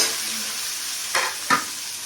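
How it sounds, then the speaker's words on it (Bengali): Onions frying in a pan for a banana stem and egg dish, a soft continuous sizzle with two quick stirring scrapes near the end, close and fairly quiet. "লাল লাল করে ভেজে নিচ্ছি।"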